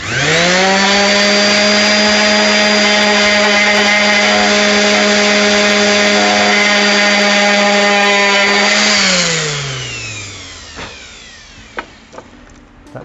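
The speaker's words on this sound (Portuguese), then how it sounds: "Quando você lixa com a rota orbital, o resultado fica já impecável de primeira" A random orbital sander runs on wood with a loud, steady electric whine and hum. It then spins down over a couple of seconds and is followed by a few small knocks.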